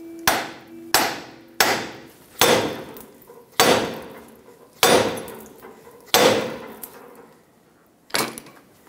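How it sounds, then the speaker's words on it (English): Eight sharp metallic hammer blows strike the steering knuckle of a 1996-2002 Toyota 4Runner at a steady pace, each ringing briefly before the next, close and loud with no talking. "take a hammer, hit the knuckle right here"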